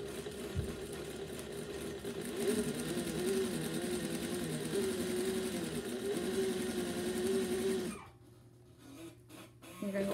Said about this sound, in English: And you're going to sew at your 1/2 inch seam allowance.